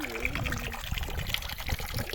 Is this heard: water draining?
yes